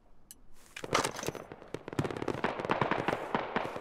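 SAW machine gun fire in Squad during USA versus Russia combat: rapid, sharp bursts of automatic shots that start after a short pause and continue in quick repeated cracks, close and fairly loud, with no talk over them.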